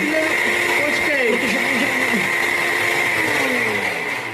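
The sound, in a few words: kitchen blender running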